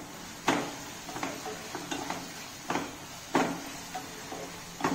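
Vegetables with vegetable masala, black pepper and red chilli powder for poha are stirred in a pan. A spoon scrapes and clinks against the metal at irregular intervals over a soft, faint sizzle.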